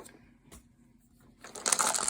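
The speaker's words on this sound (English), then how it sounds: "Before I dumped my dice tray all over the table" A heap of dice pours from a dice box onto a tabletop during a tabletop role-playing session, a dense clattering rattle that builds after a few light taps.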